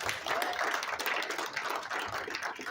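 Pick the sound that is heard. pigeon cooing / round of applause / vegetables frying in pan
round of applause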